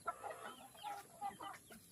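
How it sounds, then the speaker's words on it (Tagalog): A native chicken rooster clucks and calls in a few short, close bursts with small gaps between them, fairly faint and with no talk over it. "Native chicken."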